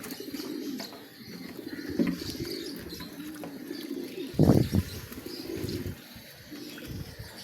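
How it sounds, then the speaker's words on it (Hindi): Soft cooing of pigeons coming to drink water close by, with a brief burst of wing flapping midway, over a murmuring background. "ये सारे कबूतर अब आहिस्ता आहिस्ता आते जाएंगे और पानी पीते जाएंगे।"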